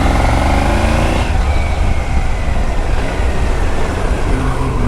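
A powerful motorcycle engine roars steadily while riding on a hot highway, loud and close with continuous wind and road rumble and no talk.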